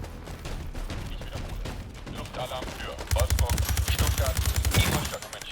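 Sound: Beryl 762 rifle gunfire in video game World War 3

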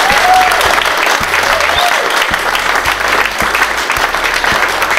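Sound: audience applause for captain Andrew Bowater

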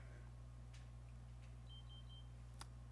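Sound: diabetes monitor alarm beeping

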